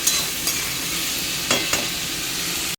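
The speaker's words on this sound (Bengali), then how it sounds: "কতদিন বাদে আলু পেঁয়াজ ভাজছি জানো না।" Potatoes and onions frying in a pan, a steady close hiss of sizzling oil with a few sharp stirring scrapes near the start and around the middle, no voices.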